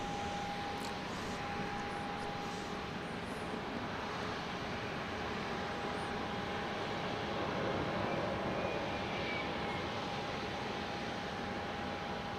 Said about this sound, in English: So here comes the flight from Tyler, passing in front of the Bank of America Tower